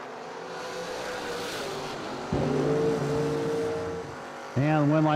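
Door-class drag race cars, including a 1967 Camaro, rev and launch with a deep roaring engine note, one car rising in pitch and a second louder car joining near the end, with an announcer talking over it.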